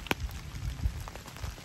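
Rain patters on a tarp over a rainy camp at Plow Point, a close, irregular scatter of drops hitting the fabric with no voices.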